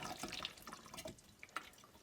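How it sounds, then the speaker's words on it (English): Fuel drains from a boat's Yamaha 7.4L marine fuel filter into a plastic water bottle, making faint, close trickling and dripping with scattered small splashes. "fuel filter into this water bottle to see if there's any water in it"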